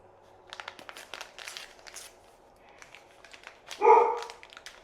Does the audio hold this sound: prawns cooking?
no